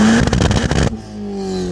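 A Nissan Pulsar GTI-R four-cylinder on two-step launch control, with a loud rapid crackling, popping engine burst that cuts off abruptly into a steadier idle hum.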